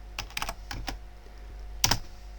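Close keystrokes on a computer keyboard, a quick cluster of light clicks followed by a pause and a final sharper pair of taps, quiet and crisp with no voices.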